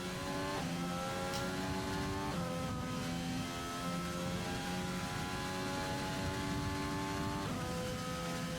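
A McLaren race car engine in a racing video game at the Spanish Grand Prix circuit, a continuous high-pitched whine rising through the revs, with sharp drops at each gear change, loud and steady.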